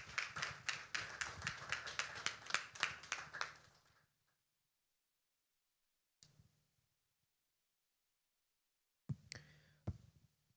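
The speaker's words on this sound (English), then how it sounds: "A round of applause for him, please." Applause from a conference audience at a solar energy colloquium, a dense burst of clapping lasting about four seconds that fades out, followed by silence and a few scattered faint claps.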